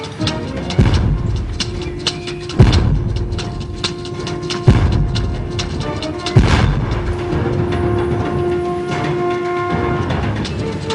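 A gunfire volley in a historical battle scene gives four heavy booming shots at uneven intervals over a continuous dense rumble of noise.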